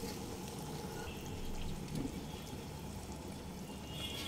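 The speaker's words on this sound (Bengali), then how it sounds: "এই ছোলার ডালের মধ্যে এক্সট্রা জল আছে, সব সময় ছোলার ডাল আর জল সব সময়ই দিয়ে দিলাম, ঢেলে দিয়ে দিতে হবে" Boiled chana dal and its cooking water poured into a pot, a steady low splashing pour running continuously and close by, with no talking.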